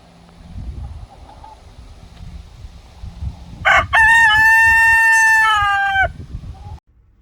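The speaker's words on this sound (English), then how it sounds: "he starts crowing out when I'm back there" A single loud rooster crow rings out close by among chickens, long and harmonically rich, over soft outdoor rustling and faint background noise.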